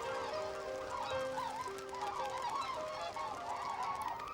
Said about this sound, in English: The capybaras scare great flocks of red-billed whistling ducks whose wing beats sound out over the swamps every day at dawn